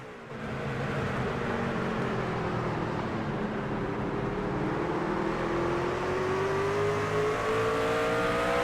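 Race trucks at Martinsville short track in the iRacing sim, a continuous engine roar that drops in pitch as the truck brakes hard into the corner, steady and loud with no voices over it.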